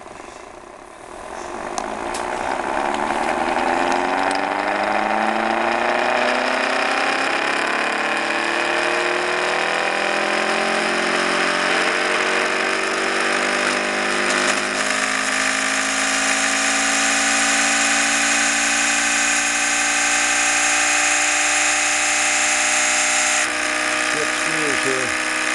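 A twin-rotor ORBO and THOMAS motor runs with both rotors together, its whine rising steadily in pitch as it winds up, loud and continuous, with a voice talking over it.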